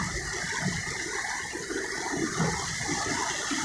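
Fast-flowing water in a mountain stream rushes steadily and close by, a dense, continuous hiss and gush with no break and no talking.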